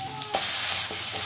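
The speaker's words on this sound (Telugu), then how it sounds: "మీడియం ఫ్లేమ్ లో పెట్టుకొని ఇలా స్టిర్ చేస్తూ మనం ఫ్రై చేసుకోవాలి" Ground spice paste for Rayalaseema-style red rasam frying in hot oil with mustard seeds and curry leaves over a medium flame, a loud steady sizzle that jumps up as the paste hits the pan, with a spoon scraping and stirring through it.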